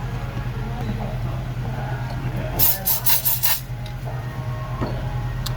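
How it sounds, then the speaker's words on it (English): Rasping scrapes from corrosion being cleared out of the spark plug holes of a rough-running 2008 Lincoln MKX 3.5L AWD engine: a short cluster of harsh strokes midway, set against a steady low hum. "Get all the corrosion out of the holes."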